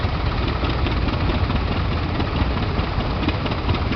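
A Fordson Major tractor engine running at a show, a steady low diesel rumble at an even idle, loud and close throughout with no voices.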